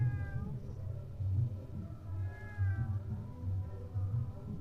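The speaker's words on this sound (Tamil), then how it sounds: "இதான் பூனை தான் இது" A cat meows twice in a mobile sound-guessing game, two soft, drawn-out cries heard close over a faint, steady background tune.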